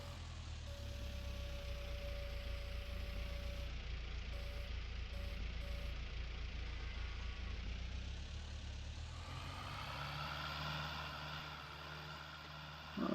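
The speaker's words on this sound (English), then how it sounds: "the tractor is like going full blast, but we are spinning" A tractor pulling a baler runs at full power with a steady, droning engine roar that stays loud throughout. Near the end the pitch shifts and the tone changes as the machinery strains.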